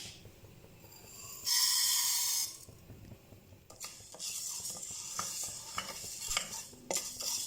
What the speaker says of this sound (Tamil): நம்ம பருப்பு வறுத்துக்கலாம்.